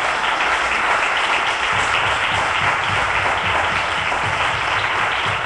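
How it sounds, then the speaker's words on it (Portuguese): A church congregation applauds together, a steady, dense wash of clapping hands filling the whole stretch without pause, with no clear voices above it. "Vamos aplaudir o Senhor nessa hora."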